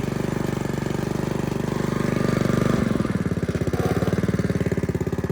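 A Craftsman DT tiller engine runs close by, a steady loud chugging that eases into a slower, rhythmic idle putter.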